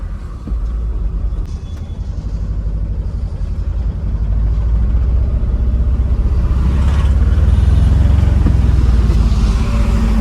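A truck on a long trip near Nashik pulls away from a stop, its deep diesel engine rumble building steadily louder and closer as it gets underway and drives on.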